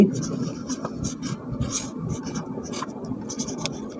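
Pen scratching an answer into a notebook for a class 7 math problem, close and fairly loud, in short, irregular strokes and scrapes with brief pauses between them, and a voice speaking softly underneath.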